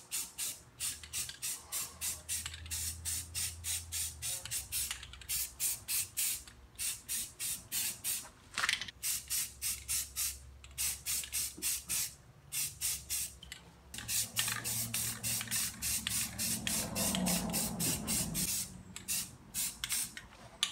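Spray paint applied to wheels in repeated short bursts, each hiss starting and stopping in a steady rhythm, close and fairly loud, with a longer continuous spray pass toward the end and no talking.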